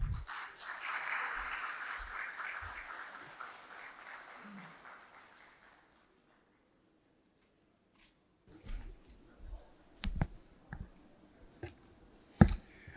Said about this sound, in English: Please welcome him on stage with huge round of applause.